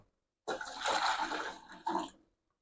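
Water pours into a cooking pot for boiling eggs in a home kitchen: a steady, close splashing stream for about a second and a half, then a short second gush before it stops.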